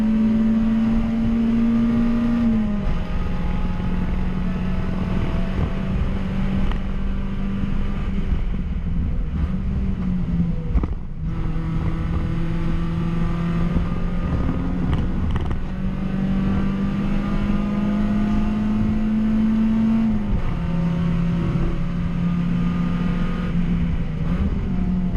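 Race car engine in an SM2 sprint race, revving hard and shifting through gears as it pulls out of a corner with wind rushing over the microphone, loud and continuous throughout.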